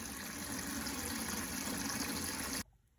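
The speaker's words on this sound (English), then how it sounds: "I'm going to start filling up a tray full of water in order to soak my paper" Water runs steadily from a tap into a tray for soaking printmaking paper before a drypoint print, a continuous close gushing fill that stops abruptly near the end, leaving quiet.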